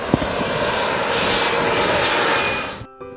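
An aircraft engine roars loudly and continuously, holding steady before cutting off abruptly near the end.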